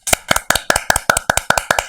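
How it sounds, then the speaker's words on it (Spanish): Sharp claps land in a steady rhythm, about ten evenly spaced hits in under two seconds, close and fairly loud. The sound is thin, like a single pair of hands or a few people welcoming a psychologist guest on a talk show. "Recibamos con un fuerte aplauso a la psicóloga Carolina Maite."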